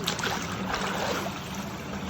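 Cold water gushes steadily from a tube well outdoors, a continuous broadband rush and splash that stays close and fairly loud for the whole stretch, with no talking.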